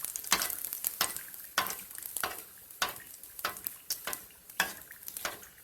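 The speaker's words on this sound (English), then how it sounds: "we turn it on the other side" Tunisian brik egg roll sizzles in hot oil as it is turned over, a close crackling fry broken by rhythmic scraping and stirring strokes about once a second, with no voices.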